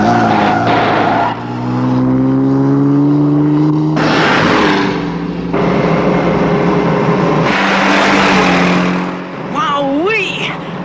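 A car engine roars with its supercharger engaged in a vintage puppet action show, a loud rising mechanical whine with shifting pitch across several bursts, tires squealing, and a brief voice exclaiming over the top near the end.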